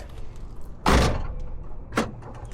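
The driver's door of a 1994–2004 Ford Mustang, fitted with a replacement latch assembly, swings shut with a loud close-range thunk, followed a second later by a second, shorter latching clunk.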